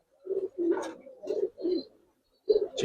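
A Giribaz pigeon coos in a short run of soft, low calls, about five throaty notes in quick succession close by, with a brief pause before the last one and no talk over it.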